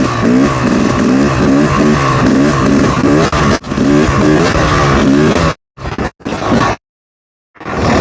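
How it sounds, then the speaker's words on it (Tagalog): A Yamaha YZ250 250cc two-stroke dirt bike revs hard in third gear on an uphill road, a loud, continuous buzzing engine note with rhythmic pulsing, then cutting off abruptly into brief bursts and silence near the end. "Again, this is a 250cc, third gear, fourth gear."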